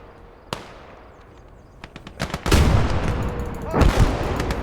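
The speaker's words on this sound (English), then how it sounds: "That is heavy artillery." Heavy artillery fire in a war game battle: a sharp early crack, then scattered shots building into a loud, sustained rumble of booming blasts and explosions, with a faint voice underneath.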